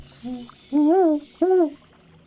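An owl hoots three times at night, a short soft call followed by two louder, drawn-out hoots, standing alone against quiet background hiss.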